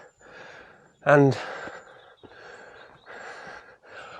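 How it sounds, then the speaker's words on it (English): Heavy breathing of a walker climbing an incline near Tarn Hows in the Lake District, with several breathy exhalations and a sharper gasp or snort, close up, alongside brief talk. "in this weather, heavy breathing already"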